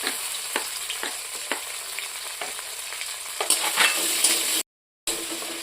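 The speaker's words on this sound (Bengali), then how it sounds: "আদা বাটা একটু দিয়ে দেবো" Ginger paste fries in a pan with a close, steady sizzle broken by several sharp clicks of a utensil stirring against the pan, and a brief silent gap near the end.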